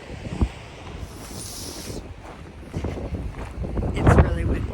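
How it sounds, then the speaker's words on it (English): Gusty wind buffets the microphone by a lighthouse on Nantucket in a low rumbling roar that swells and strengthens toward the end, with faint rustling in the background. "It's really windy up here"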